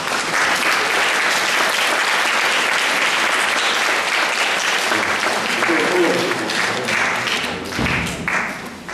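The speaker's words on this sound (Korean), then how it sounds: "우리 이분들 앞으로 올라오실 때 우리 박수로 우리 환영하도록 하겠습니다" A church congregation applauds to welcome new members: steady, dense clapping fills the room, continuing unbroken before thinning out near the end, with a few voices mixed in.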